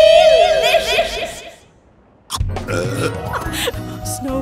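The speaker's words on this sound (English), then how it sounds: "Snow burps." A long, loud, drawn-out burp with a strong pitched tone fades out, then after a short silence comes a voiced snicker and chuckling, all close up.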